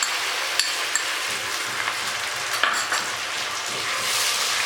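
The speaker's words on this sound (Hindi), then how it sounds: "टमाटर को हमने थोड़ी देर फ्राई कर लिया" Tomato paste sizzles in a pan with lightly browned fried onions, a steady close hiss and crackle throughout with a few sharper pops.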